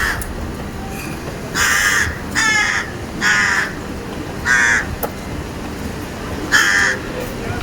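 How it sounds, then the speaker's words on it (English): Crows cawing in an old Edinburgh kirkyard, several harsh caws arriving in bursts with pauses between, fairly close and loud over steady outdoor background noise. "those crows literally get attention"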